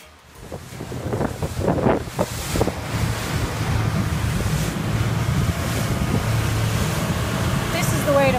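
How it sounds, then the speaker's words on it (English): Ocean waves washing onto a beach near a campsite on Catalina Island, a steady roaring surf mixed with heavy wind buffeting the microphone, with brief talk at the start. "We sleep listening to the waves."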